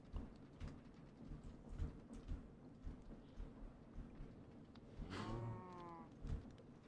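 A cow moos once in modded Minecraft, a drawn-out low call near the end, over a soft, rumbling game background with faint scattered ticks.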